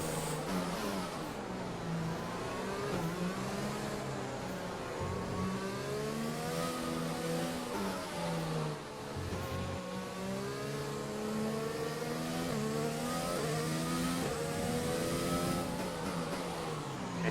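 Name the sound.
racing car engine driving into pit lane in F1 video game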